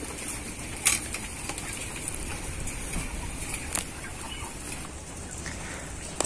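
Young laying hens (pullets) clucking in a coop, soft scattered clucks and an occasional sharper call over a constant busy flock murmur, a few wing flaps.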